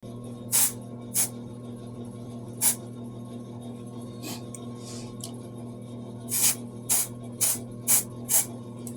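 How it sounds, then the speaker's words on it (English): Short hissing bursts of aerosol hair spray, a few spaced out then several in quick succession, over a steady low room hum. "I'm just going to continue to keep spraying until I feel like it's fully covered"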